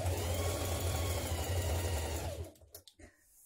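A sewing machine bastes a dress pocket to the side seams, stitching in one fast continuous hum for over two seconds before stopping, followed by a few soft handling taps, close and quiet with no talking.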